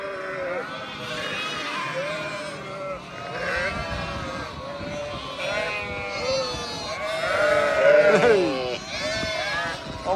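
Lambs on a farm bleat repeatedly and loudly at close range, the cries overlapping in quick succession throughout as the animals are handled for medication.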